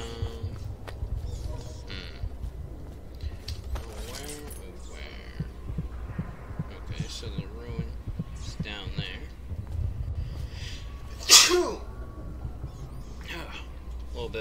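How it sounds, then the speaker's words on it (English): A character in the Dishonored video game sneezes once, giving a single sharp, loud burst near the end. Before it there is a low ambient hum and soft murmuring background voices. "Sneeze."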